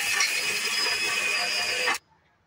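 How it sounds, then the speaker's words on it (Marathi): A mixer grinder grinds almonds and walnuts in a loud, steady whir that holds for about two seconds and then stops abruptly, leaving near silence. "बदाम आणि अक्रोड मी आता मिक्सरमध्ये वाटायला टाकलं आहे।"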